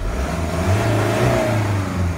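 A car's engine revs up under light throttle as the accelerator is pressed, during diagnosis of an EGR fault with the check-engine light on; a steady, loud mid-pitched drone swells and holds, with no talking.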